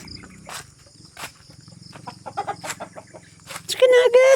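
Chickens on a farm cluck and a rooster crows in short bursts nearby, with insects chirring steadily underneath and a voice speaking briefly toward the end.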